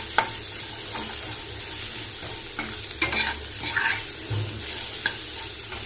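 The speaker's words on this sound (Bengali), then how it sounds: "এরপর ক্যাপসিকাম আর পেঁয়াজটা দিয়ে দেবো। একটু নুন দেবো এতে। এটা হালকা করে একটু ভেজে নিতে হবে।" Capsicum and onion fry lightly with a little salt in a pan, a soft low sizzle under repeated spatula scrapes and stirring clicks at close range.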